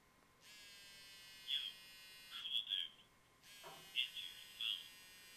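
A bright electronic ringtone plays a repeating high trilling melody in two bursts with a short pause between, clear and fairly close, with no talk.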